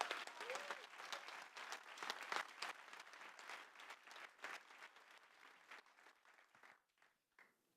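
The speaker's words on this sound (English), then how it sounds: "so one big applause for Maha at the corner for setting it up" Applause from a crowd at a solar race car reveal, a moderately distant burst of clapping that rises, holds for several seconds, then thins out and fades near the end.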